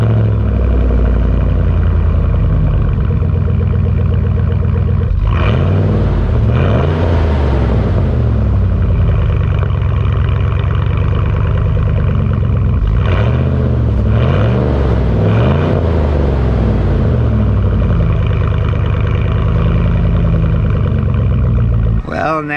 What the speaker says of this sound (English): we will now start our pickup truck and see what it sounds like